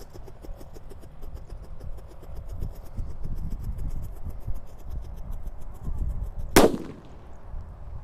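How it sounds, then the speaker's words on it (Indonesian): A single sharp bang from a firecracker exploding cracks out near the end, after several seconds of low rumbling and hiss in the background. "selanjutnya kita nyalakan mercon disco happy flower warna merah ya, lap-lap door ini"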